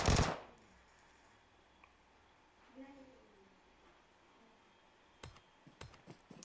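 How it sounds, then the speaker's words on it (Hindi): Gunfire in a video game tournament match, heard as a loud burst at the start and then a scattered run of quick, faint shots after a quiet stretch. "team number 12 still taking shots"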